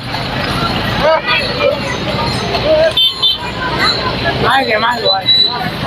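Traffic noise from vehicles passing near a religious palkhi procession at Sharada Nagar keeps up a steady roar, with crowd babble and voices over it.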